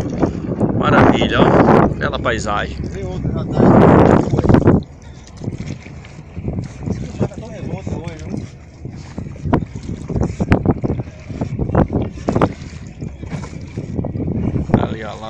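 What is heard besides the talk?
motorboat approaching on the sea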